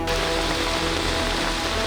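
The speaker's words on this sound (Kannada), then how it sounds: "ಬಿರುಗಾಳಿ ಮಳೆ ಅಬ್ಬರ" Heavy monsoon rain pours down in a loud, unbroken hiss with a low rumble underneath, close and constant throughout.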